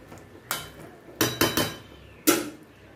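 A metal lid clanks onto a cooking pot in a few separate knocks and rattles, close and fairly sharp, with quiet gaps between them.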